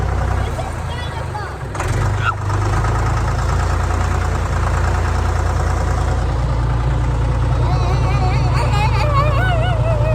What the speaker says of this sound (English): Going for a ride in the tractor bucket.